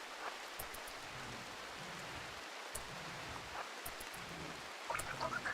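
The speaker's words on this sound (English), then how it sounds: "why are you sleeping out in the toxic rain?" Toxic rain falls steadily in the video game RimWorld as a soft, continuous hiss. It is faint and even throughout, with a few small drop-like ticks.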